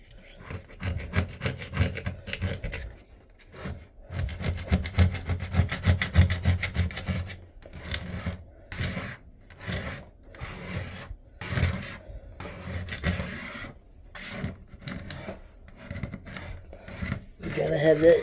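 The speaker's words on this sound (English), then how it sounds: "You just take a plastic scraper, make sure your edge is right." A plastic scraper rasps old silicone caulk off a bathroom floor where a toilet is being replaced, a series of rough, close scraping strokes with short pauses between them.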